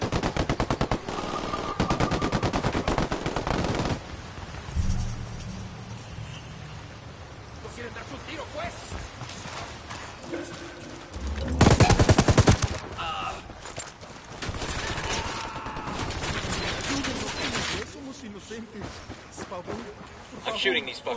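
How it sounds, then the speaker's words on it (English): Minigun fire in the Ghost Recon Wildlands video game, coming as long, dense bursts of rapid gunfire separated by pauses, loud and close, with people talking between and over the shooting. "Narco with a damn minigun"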